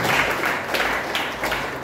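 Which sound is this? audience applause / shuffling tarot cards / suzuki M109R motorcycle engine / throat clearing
audience applause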